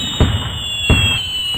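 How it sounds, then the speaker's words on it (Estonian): Fireworks exploding at midnight on New Year's, two loud booming bursts about 0.7 seconds apart over a constant high whine in the background, no voices. "Täpselt keskööl lasti punaseid, kollaseid, siniseid saluute taevasse."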